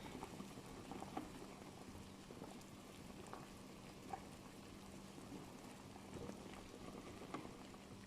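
A pot of Thai pork belly palo stew simmering, with quiet, steady bubbling and occasional soft pops and plips that continue throughout, with no voices.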